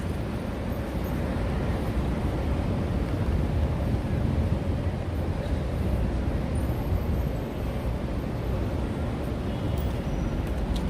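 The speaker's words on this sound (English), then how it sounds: "the wind is picking up a little bit, so it makes it feel pretty fresh" Wind blows across the microphone on a Midtown Manhattan street in New York City in July, a steady low rumbling buffet that lasts throughout with no talk.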